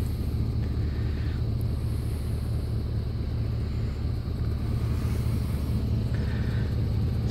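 A 2001 Chevrolet Suburban LT 2500 4x4 engine running at idle, a steady loud low rumble with some wind noise on the microphone, continuous throughout with no talking.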